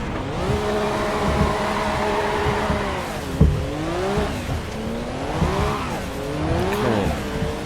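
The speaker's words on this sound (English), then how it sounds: "Impossible to drive the car without it aquaplaning." A race car in the Assetto Corsa video game runs on wet tyres in heavy rain and aquaplanes. The engine drones and revs up and down, with tyre squeal and skidding, a sharp jolt midway, and no talk.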